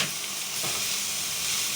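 Chayote dropped into hot oil in a pan fries with a continuous, close bright sizzle, the hiss swelling slightly as the pieces land and then holding steady.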